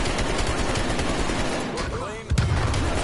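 AK rifle fire in a video game, a dense run of rapid shots packed under ongoing player chatter, with a heavier burst near the end.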